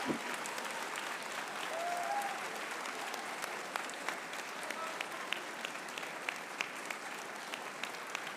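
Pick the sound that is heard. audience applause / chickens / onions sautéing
audience applause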